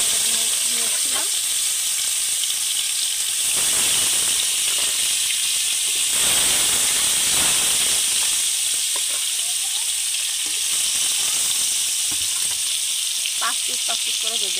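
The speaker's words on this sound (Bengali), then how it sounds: "পাঁচ পিস করে ভেজে নিচ্ছি আমি।" Pieces of kuri fish fry in hot oil in a pan, a loud, steady close-up hiss and sizzle that lasts throughout, with a few brief clinks and scrapes and some faint voice in the background.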